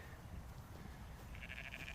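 Sheep out in a field in warm, muggy weather, a faint bleat surfacing over low steady background rumble and becoming a sustained wavering call near the end.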